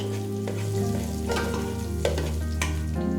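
Chopped ginger and garlic with cinnamon, cloves and cardamom sizzle steadily in a pot of hot oil, with occasional stirring clinks over the continuous frying hiss.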